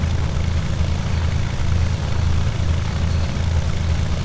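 A Cessna 172 light aircraft taxis at walking speed, its propeller engine a loud, steady low drone that holds unchanged throughout with no voices.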